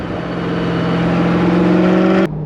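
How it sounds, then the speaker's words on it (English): Mid-engine C8 Corvette cruising with steady exhaust drone and rising pitch, then a sudden cut as the throttle is lifted, leaving a lower rumble at the end; close and fairly loud. "if I let off the gas, you can kind of hear some burbles"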